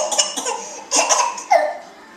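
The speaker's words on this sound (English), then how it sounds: "That wasn't even a real cough." A young child gives a few short, breathy forced coughs, nearby and fairly clear, spaced in quick bursts with faint background sound between them.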